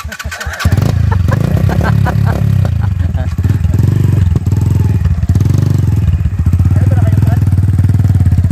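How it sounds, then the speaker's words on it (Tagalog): An enduro motorcycle at an endurocross race in Capas, Tarlac, Philippines revs loudly and continuously up close, its engine note rising and falling in repeated throttle blips for most of the stretch. "Enduro bike."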